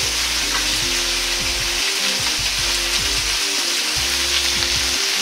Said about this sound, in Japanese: このくらいタケノコに油が回ったのを確認したら、豆板醤と生姜を入れ炒めていきます。